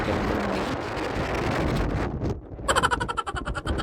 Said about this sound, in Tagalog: Gadi ang hangin. Grabe gadi.